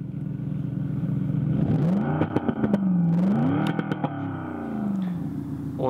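A sound module on an electric moped plays a synthetic engine note, a droning hum that swells and dips like revving, overlaid with sharp clicking bursts, heard close and without speech.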